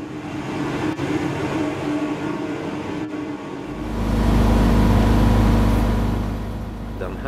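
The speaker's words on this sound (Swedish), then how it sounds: "Nu åker vi genom stationen på spår 2." A locomotive with a driver's cab at each end runs through a station on track 2. The moderate rumble of the running train swells into a louder, deeper roar about halfway through.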